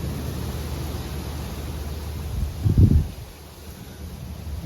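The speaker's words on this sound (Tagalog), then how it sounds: "Yan oh, grabe hangin, ang lakas." Strong wind blowing outdoors in snowy Canadian winter weather, a steady broadband rush with a brief louder buffet against the microphone near the end.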